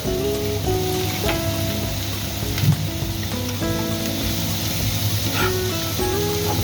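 Small diced potatoes cook in a hot spiced masala for chicken patties, a soft continuous sizzle with occasional stirring taps, close by over a steady low hum.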